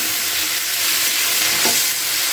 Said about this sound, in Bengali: এবার বকুলিগুলোকে আমি ছেড়ে একটু নাড়াচাড়া করে একটু হালকা করে ভেজে নিচ্ছি